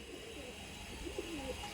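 Short-sized pigeons in a loft coo softly, a few faint, brief murmuring calls near the end against a quiet, steady background.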